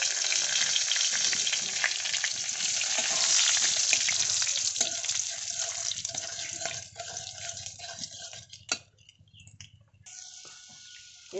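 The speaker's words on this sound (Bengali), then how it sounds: "ফোড়নটা দিয়ে দেবো শুকনো লঙ্কা তেজপাতা আর গোটা গরম মশলা" Dry red chillies, bay leaves and whole garam masala spluttering in hot oil for a fish curry tempering, a loud, steady sizzle that fades and breaks up near the end into a few clinks and stirs.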